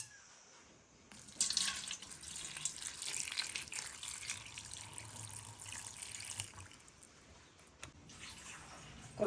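Water poured over freshly picked aromatic leaves to soak them, a steady splashing, running flow close by that swells after the first second and fades near the end.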